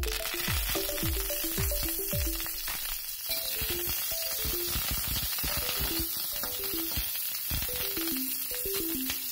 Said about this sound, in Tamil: வடகம் நல்லா பொடிய ஆரம்பிக்கிட்டோம்